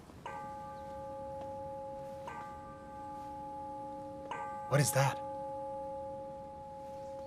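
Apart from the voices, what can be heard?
bell ringing for stewards' pay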